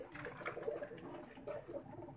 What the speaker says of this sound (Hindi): रंगीन परों का कबूतर है, कैसा कैसा हसीन कबूतर लोगों के पास होता है।